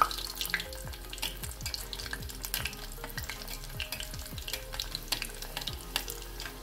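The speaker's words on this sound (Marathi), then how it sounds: "स्प्रिंग रोल आपण तळून घेऊया. तेल तापायला ठेवलेलं आहे. तेल गरम झालेलं आहे." Veg crispy spring rolls deep frying in a pan of hot oil, giving a steady close sizzle with scattered crackles and pops throughout, no voices.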